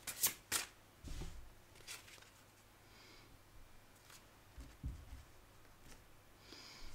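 Oracle cards shuffled by hand to draw the card of the day, heard as close, soft riffling bursts at irregular moments, a few sharper flutters near the start and then quieter rustles, with no voice over them.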